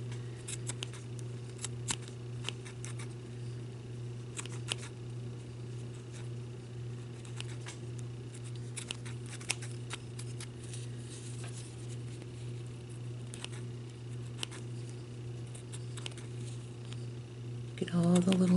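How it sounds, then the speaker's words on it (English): Scissors trim and shave the rough edges off a handmade paper base tag for butterfly embellishments, giving soft, scattered snips and brushing sounds over a steady low hum, close and fairly quiet. "you're going to go back in and just kind of shave those off with your scissors."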